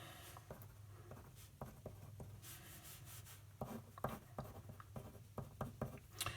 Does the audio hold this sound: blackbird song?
no